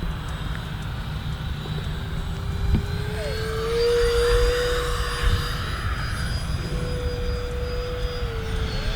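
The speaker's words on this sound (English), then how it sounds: "I want you guys to hear that throttle up on this pass." An E-flite Habu STS electric RC jet passes overhead, its ducted-fan whine rising as the throttle opens, swelling louder mid-pass then easing off, with steady outdoor wind noise underneath.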